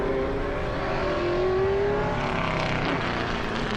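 Race cars roar steadily and loudly, with a 1965 Ford Falcon numbered 24 among others at a vintage road-racing festival, engine tones rising and shifting as cars pass close by.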